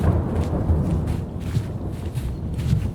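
Low rolling thunder from an approaching thunderstorm rumbles in a forest of tall trees, a loud continuous roar mixed with wind buffeting the microphone and a few scattered rustles, with no voices.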